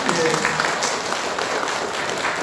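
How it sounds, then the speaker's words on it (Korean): Church congregation applauding during a Sunday morning worship service, a steady broadband patter of clapping lasting a couple of seconds, with a voice briefly heard over it at the start. "우리 축하하는 박수 한번 할까요?"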